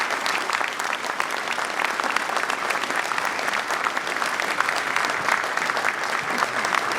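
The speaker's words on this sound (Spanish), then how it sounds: "les quiero pedir un fuerte aplauso para los familiares de las víctimas del terrorismo" A large crowd at an outdoor march against impunity claps in sustained, dense applause for the families of terrorism victims, loud and even throughout with no pauses.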